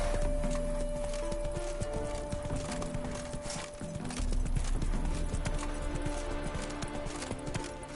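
Horse hooves clip-clop steadily and fairly close while the horse is ridden, a continuous rhythmic patter with a dense background bed and no talk.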